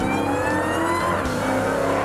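Supercharged Dodge Hellcat V8 revving hard, a loud, continuous engine roar with rising whine that surges and pitches up midway, no voices over it.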